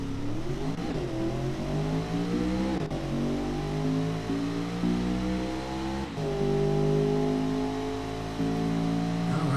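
A virtual Audi B7 RS4 in the game Automation accelerates hard, its engine note climbing steadily through the revs with brief dips at gear changes, loud and continuous with no talk.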